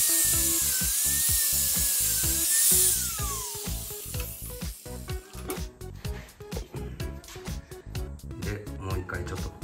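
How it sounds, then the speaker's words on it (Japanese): A power tool grinds through a motorcycle chain during a chain replacement on a Suzuki VanVan, a loud, high-pitched whine for about three seconds, then a series of short rapid cutting bursts with intermittent pauses, close to the microphone. "チェーン切っちゃおうと思います。"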